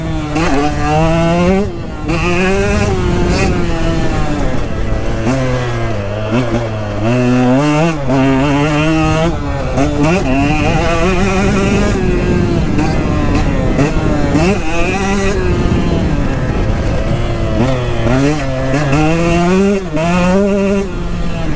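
A 2022 KTM 125XC dirt bike engine revs hard while being ridden, its loud, high whine climbing and dropping again and again as the throttle opens and closes.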